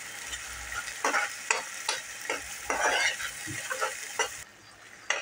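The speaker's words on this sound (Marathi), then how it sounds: "आता हे जे वाटण आहे केलेलं ते आपण टाकून घेऊया आणि चांगलं परतून घेऊया प्रथम" Ground masala paste sautéing with reddened onions for egg curry, with sharp, irregular spoon scrapes and knocks against the pan over a soft sizzle, close up, easing off near the end before one last clatter; no one talks.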